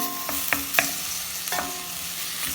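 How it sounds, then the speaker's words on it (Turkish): Peppers and tomatoes sautéing in a pan as ground-meat pide filling, a steady close sizzle broken by a few sharp stirring scrapes and clicks, with no voices. "Kavurmaya devam ediyorum."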